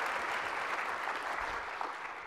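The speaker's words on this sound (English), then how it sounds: "You should actually give yourself a round of applause." A conference audience at EmberConf 2016 applauds, a dense, sustained patter of clapping from a large room that holds steady and fades slightly at the end.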